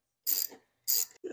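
A socket wrench ratchets on a bolt in the wiper bay of a C3 Corvette, giving two short clicking bursts and then the start of a third, close and fairly quiet with no talk.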